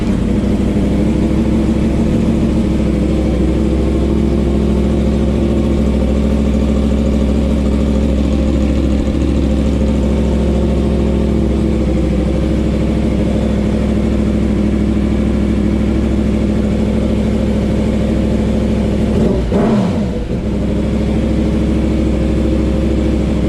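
A 2023 Yamaha MT-10 motorcycle engine runs steadily close by after a spark plug service, a loud continuous idle with a brief throttle blip near the end, no talking.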